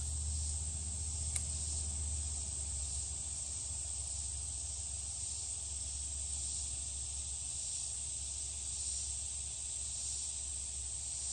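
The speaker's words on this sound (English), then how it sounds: "Listen to the cicadas." A constant high-pitched buzzing drone of cicadas in woods fills the background, steady and unbroken, with a faint low rumble beneath and no talking.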